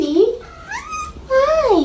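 A cat at the San Diego Humane Society meows up close, two or three distinct, loud, rising-and-falling cries with a short pause between them.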